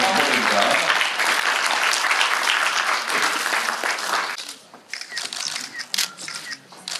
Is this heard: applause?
yes